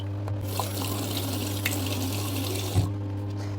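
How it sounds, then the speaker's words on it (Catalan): Water worked by hand into wavy hair after a shower makes a soft, steady wet hiss and splash with a few small squelches, fairly quiet and close. "també li passem una mica d'aigua i anem fent així per donar-li forma"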